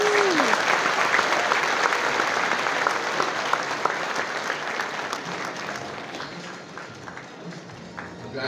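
Loud crowd applause for newly sworn physicians at their oath-taking ceremony, dense clapping that goes on throughout and slowly thins toward the end, with a brief voice at the start.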